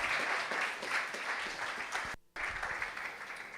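An audience at a West African peace and security conference panel introduction applauds steadily, the clapping dense and sustained, with a brief break before it resumes.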